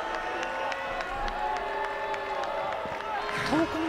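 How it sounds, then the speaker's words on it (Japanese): A pro wrestling arena crowd boos loudly in a steady, sustained jeer, with commentators talking over it. "いやこれものすごいブーイングですよ"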